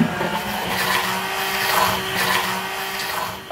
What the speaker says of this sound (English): Blend it till it's nice and smooth.